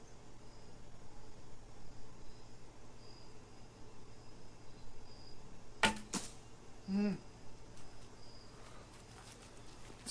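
Longbow arrow striking a target outdoors, a single sharp thwack followed by a second smaller knock, fairly close over steady background hiss and insect-like noise.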